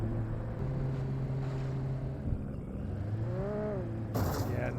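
A vehicle engine in the game Alan Wake Remastered drones steadily, shifting pitch a few times, with a burst of noisy sound near the end.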